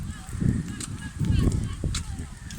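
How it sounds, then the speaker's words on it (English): Geese honk in short repeated bursts among ducks gathered on a lakeshore beach, several calls fairly close over a steady background of wind and water, with no talking. "Tons of ducks and geese down here now."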